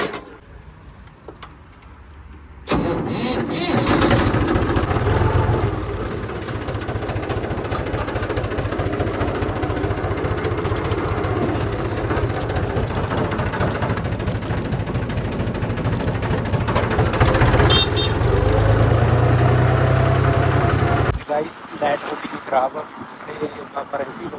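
A tractor engine, used with a superseeder for wheat sowing, runs close by with a loud, steady rumble for about twenty seconds before cutting off abruptly, with voices talking over it.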